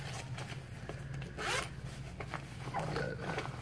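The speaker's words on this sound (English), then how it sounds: "You got a little zip-up pocket here." Zipper on a pocket of a Kylebooker KB002 fly fishing chest wader being pulled, several quick rasping zips in short strokes close up, alone over a faint background hum.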